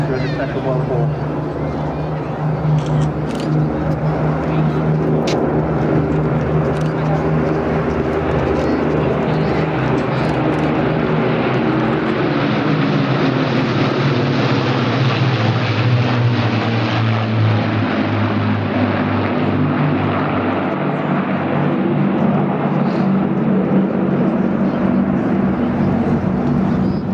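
A Battle of Britain Memorial Flight propeller aircraft flies at the Dawlish air show, its engine droning loud and continuous with a slowly shifting pitch as it passes, under a commentator talking over a public address system.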